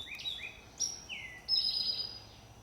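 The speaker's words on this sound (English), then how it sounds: "just listen to the birds." Birds chirp and tweet outdoors in several quick, clear calls, fairly close, with quiet background.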